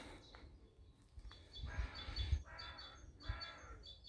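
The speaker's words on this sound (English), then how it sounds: "Crows calling overhead." Crows call overhead on a woodland walk near a channel, several harsh caws and chirpy notes rising and falling over a steady outdoor background with low rumbling gusts.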